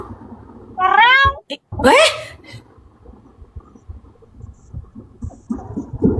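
A person mimics a cat's meow twice in quick succession, close and fairly loud, followed by soft breathing and quiet room noise.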